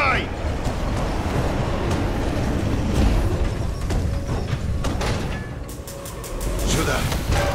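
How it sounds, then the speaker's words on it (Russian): Heavy mine cart shoved along rails in a collapsed mine in Call of Duty: Advanced Warfare, a continuous loud grinding, rumbling roll with metallic clanks and scrapes, ending in a few sharp knocks. "Давай сдвинем вагонетку!"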